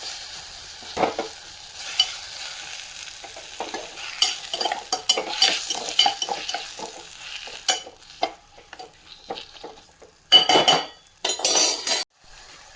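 A spoon stirs fried onions and one chopped tomato in a pan, with soft sizzling under a run of scraping strokes and metallic clinks that builds to louder clattering bursts near the end, with no voices.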